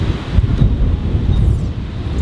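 Steady outdoor wind buffets the microphone on a windy day beside a house with a tree out front, a continuous low rumbling roar with no talk.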